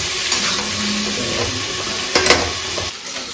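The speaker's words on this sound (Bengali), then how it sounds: "এই যে আমার ভাজা হয়ে গেছে, এখন আমি নামাই নিচ্ছি।" Vegetables fry in hot oil in a pan for a Bengali taro and prawn curry, giving a steady close sizzle with a few sharp stirring clinks and no talk.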